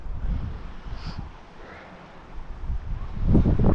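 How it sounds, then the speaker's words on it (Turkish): Gusty wind buffets the microphone in low rumbling bursts at a seaside cove, easing in the middle and swelling again at the end; no speech is heard. "Bayağı bir rüzgar esiyor."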